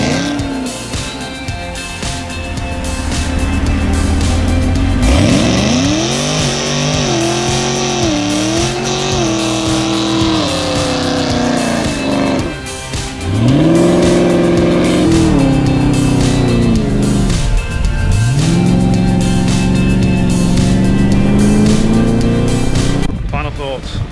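A 2018 Chevrolet Camaro ZL1 engine and aftermarket exhaust rev loudly and rise through several throttle sweeps, with sharp pulls near and strong, while people talk over parts of it.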